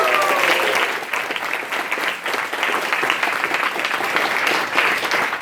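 Sustained applause from a hackathon closing-ceremony audience, a dense steady wash of many hands clapping together without letup, loud and close throughout.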